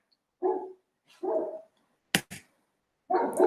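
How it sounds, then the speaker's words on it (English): Dog barking outside, several separate barks at moderate distance, with two sharp knocks or thumps between them. "my dog is outside barking like crazy"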